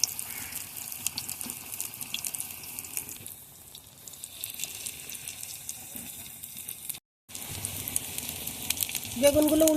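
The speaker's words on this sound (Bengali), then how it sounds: "এভাবে আমি সব বেগুনগুলো ভেজে নেব।" Eggplant slices coated in besan batter and semolina sizzle and fry in hot oil, a steady crackling hiss throughout with a brief gap near the middle.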